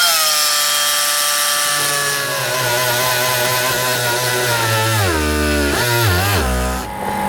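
A Parkside air-powered oscillating multi-tool cuts through hardboard skirting board, a loud, steady buzzing whine that rises in pitch and then dips and wavers as the blade bites and the air motor bogs near the end, with no talking.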